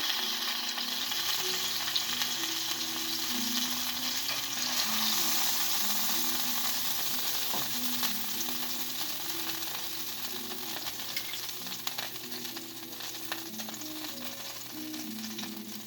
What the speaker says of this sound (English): Yep, that pork steak is done.